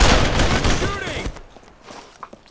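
Gunfire in the video game Brothers in Arms: Road to Hill 30, set in World War II: a loud, dense volley of shots fills the first second and a half, then drops to a few scattered, fainter pops.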